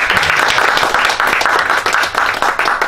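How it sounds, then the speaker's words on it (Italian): A small audience at a bookshop book presentation applauds the guest author, continuous close clapping from a modest crowd that stays loud and fairly even throughout. "salutiamo il nostro ospite sempre con un applauso di..."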